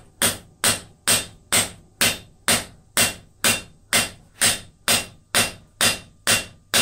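Evenly spaced, ringing hammer blows on hot steel at an anvil while forging a hook with a spade end, about fourteen sharp strikes in a steady rhythm, loud and close with no talk.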